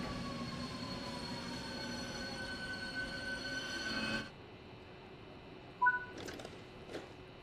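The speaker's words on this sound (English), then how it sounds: "Such a fan of these N-Wagons." N-Wagon passenger cars roll through a station in Train Sim World 5, a steady rumbling hum with squealing wheel tones that cuts off abruptly, followed by quieter ambience and a few brief chirps.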